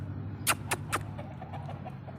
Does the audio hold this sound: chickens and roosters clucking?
yes